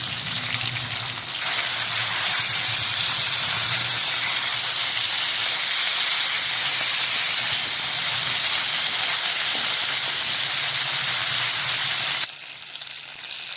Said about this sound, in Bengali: আমার ভোলা মাছগুলো ভাজা প্রায় 1 পিঠ হয়ে গেছে।